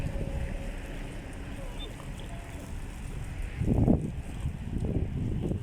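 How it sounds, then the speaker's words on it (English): Steady cold wind rushing and buffeting the microphone outdoors in Afghanistan, with a low rumble swelling near the end. "today is windy and cold."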